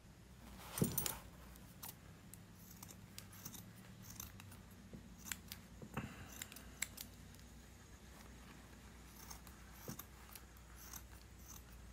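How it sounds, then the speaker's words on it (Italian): Scissors snip quietly and repeatedly as they trim a yarn pompom for a hat. The cuts come in a loose, uneven rhythm of faint crisp clicks and rustles, close to the microphone, with no talking. "e arrotondiamo ritagliandolo il nostro pompon"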